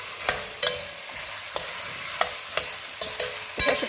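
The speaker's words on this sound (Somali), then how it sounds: "hatta alaabtii wataa isku shiilmaysaa" Rice and other ingredients fry in a hot pan with a steady sizzle, broken by a series of sharp scraping stirs at uneven intervals, close and alone.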